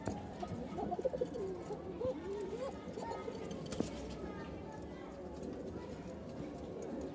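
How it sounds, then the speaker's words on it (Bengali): A male Rajshahi Giribaz pigeon in a new enclosure cooing to a female, soft warbling coos in a few phrases near the start, close but quiet against background noise. "ককার ডাক শুরু হয়ে গেছে"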